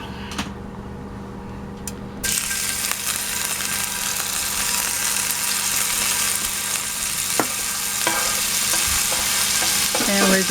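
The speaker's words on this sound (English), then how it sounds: "And we're just gonna stir this around for about 30 seconds." Garlic sauce for black pepper chicken stirred in a hot, sizzling pan: a steady, close frying hiss rises after a short quiet start, with occasional spoon scrapes and clinks, and no talking.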